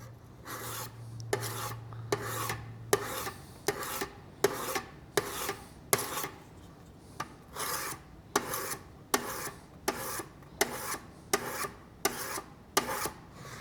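A kitchen knife is drawn across a 600 grit finishing stone in repeated scraping strokes, about two per second at a steady rhythm, close and fairly quiet, with no talking.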